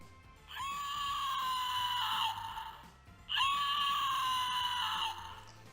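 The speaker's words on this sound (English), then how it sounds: "if you press this button on the back, it will scream" A Home Alone Screaming Kevin toy, set off by a button on its back, lets out two long, shrill scream bursts in a row with a short gap between them, clear and close.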